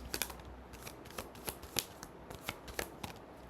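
A deck of tarot cards is shuffled by hand nearby, soft papery riffles and slaps repeating in an uneven rhythm, quiet and alone with no talk.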